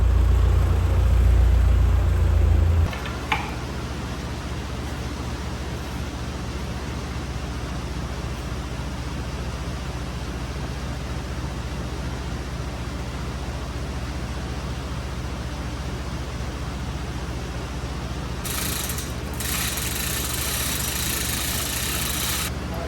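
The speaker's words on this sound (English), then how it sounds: "I cannot hear anything over the heaters" Garage heaters run loud and steady as a broad, constant roar that fills the space, with a brief heavier rumble at the start and a hissier surge near the end.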